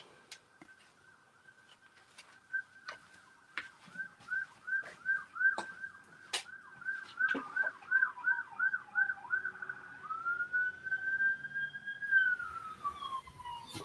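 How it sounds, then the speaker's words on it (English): Ambulance sirens pass outside a home craft workspace, a faint wailing, repeatedly rising and falling tone behind sharp nearby clicks and taps, then sweeping into a longer steady pitch before fading. "Every time I record or go live, I know y'all be hearing them the ambulances."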